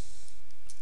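A computer mouse gives a right-click while a dataTaker DT500 thermocouple setup is configured in software: a few faint, dry clicks heard close up over steady background hiss.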